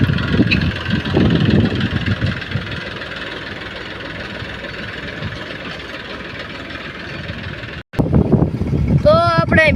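Tractor engine idling and running at a rural loading site, a steady low chug throughout with people talking over it; a brief cutout near the end, then the engine resumes alongside voices.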